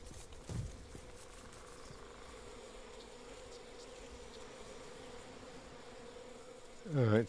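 Bees buzz steadily in a video game, a faint continuous drone under a low hum, with a brief louder thump near the start and a sudden tonal swell at the end.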